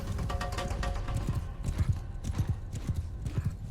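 Cavalry horses gallop in the medieval battle game Bannerlord, with a fast, dense clatter of hooves and a faint whinny, loud and close, with no voices over them.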